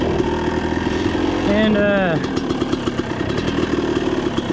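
A motorcycle engine with a bad spark plug idles roughly and loud nearby, rising briefly under throttle then sagging back into an uneven, sputtering idle while someone talks over it.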